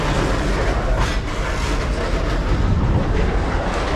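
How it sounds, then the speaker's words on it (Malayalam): A railway track maintenance train rolling past, a loud, dense, continuous roar of wheels and rumble filling the whole moment at close range, with no distinct clacks standing out and no talking. "അതിൻ്റെ ഭാഗമായിട്ടുള്ള ഒരു ട്രെയിനാണ് ഈ കാണുന്നത്"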